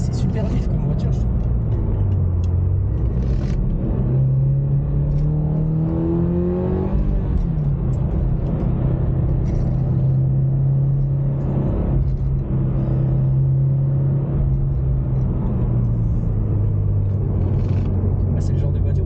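A Toyota GR86 sports car accelerates on the road, heard from the cabin as a loud, continuous engine hum that sweeps upward in pitch, then settles into a steady drone with further rises over road rumble.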